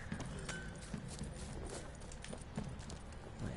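Horse hooves clip-clop in The Witcher 3, a steady rhythmic trot under game ambience and a faint background bed, moderately quiet throughout.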